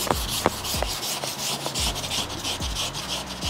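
Steady rasping strokes of a sanding block rubbed back and forth across a car body panel, close and continuous, with no voices.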